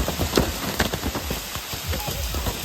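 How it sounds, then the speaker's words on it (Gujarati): Steady patter of monsoon rain falling close by on a farm with mango trees, a dense crackling hiss with scattered louder drops striking a surface. "આવી વરસાદ આવ્યો"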